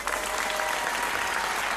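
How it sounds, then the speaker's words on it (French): Studio audience applauding loudly for Madonna at her 1984 French TV appearance, a dense, steady wash of clapping that holds for the whole stretch without a break. "On l'applaudit très très très fort."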